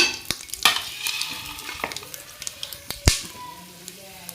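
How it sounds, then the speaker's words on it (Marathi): Food fries in a pan over a traditional wood-fired clay stove, giving a soft sizzle broken by sharp scattered crackles and pops, with one loud snap near the end. "तळून घेते ते"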